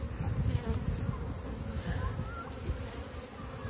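Honeybees buzz around beehives during an early spring inspection, a dense, steady swarm hum close to the hives, fairly quiet and without talking.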